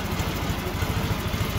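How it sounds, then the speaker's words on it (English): A racing riding lawn mower engine idles steadily up close, a dense low rumble with a fast, even pulsing throb and no talk over it. "But I'll fire it up, put it in gear so you guys can see the tires roll and stuff."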